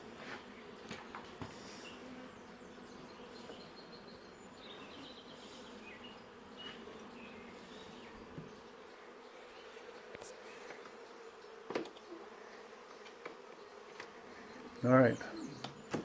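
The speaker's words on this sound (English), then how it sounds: "It's got those bees in it." Honeybees newly settled in a hive box hum in a low, steady buzz close by, with individual bees droning past, a brief spoken word and a sharper sound near the end.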